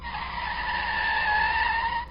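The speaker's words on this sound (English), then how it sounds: "I couldn't have been doing more than 40 when, out of nowhere, I had to slam on my brakes." A car braking hard on a road in low visibility, its tires skidding in one loud, steady squeal that holds for about two seconds, with no other sound around it.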